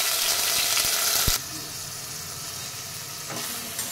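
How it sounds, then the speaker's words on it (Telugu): Broccoli, lightly parboiled with turmeric and salt, fries in hot oil for a high-protein curry. Steady, close sizzling runs throughout, with a few stirring knocks and faint talk. "వీటిని ఒక 3 minutes ఫ్రై చేసుకుందాము ఆయిల్లో."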